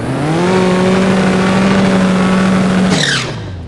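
A Dodge Challenger Hellcat engine held at high RPM gives a loud, steady, buzzing drone for about three seconds, then drops off abruptly with a brief squeal.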